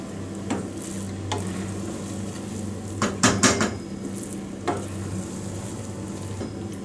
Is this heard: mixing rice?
yes